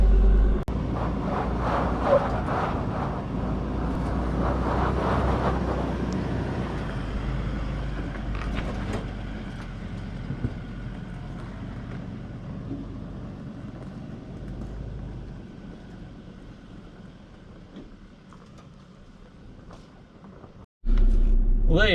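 Off-road vehicle climbing a slope with its throttle controller set to economy mode, a steady, loud engine rumble that eases toward the end before a sudden loud burst.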